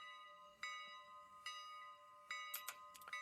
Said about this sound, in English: you get a very American-sounding bell from this little locomotive